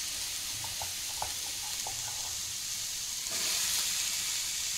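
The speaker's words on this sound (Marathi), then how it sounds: "आता मी हे सगळं थोडंसं तेल टाकून त्यात भाजणार आहे।" Garlic, chillies and sliced green tomatoes fry in a little oil, giving a steady soft sizzle with a few faint clinks from stirring, growing slightly louder toward the end.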